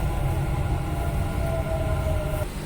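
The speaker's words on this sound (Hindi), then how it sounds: "अगेन ट्रेन आ गई है" A Dubai Metro train pulls into the Burj Khalifa/Dubai Mall station. A loud rumbling rail roar fills the platform, with a sustained whining brake-like squeal rising before the train eases to a stop.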